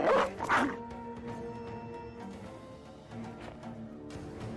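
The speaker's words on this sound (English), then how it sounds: "Dogs finally let slip from their leash." Dogs barking and yipping in the video game Battle Brothers, a burst of loud close barks at the start, then quieter scattered yelps under a sustained musical drone.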